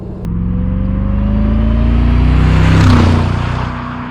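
A 2007 Mercedes SLR McLaren Roadster's engine hums steadily while driving, a loud low rumble that builds gradually to a peak near the end before easing off slightly, heard from inside with no talk.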